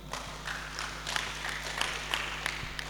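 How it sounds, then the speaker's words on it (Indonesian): Applause from an audience in a school hall in Jember, a fairly faint, steady patter of many hands clapping that carries on evenly for a few seconds. "Tepuk tangan dulu semuanya."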